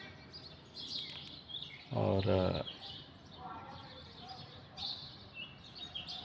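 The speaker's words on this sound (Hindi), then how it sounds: "आप लोगों की चिड़ियों की आवाज़ आ रही होगी।" Sparrows chirp in a high, busy chorus near an acacia tree at dawn, steady and fairly faint in the background, while a voice speaks briefly in the middle.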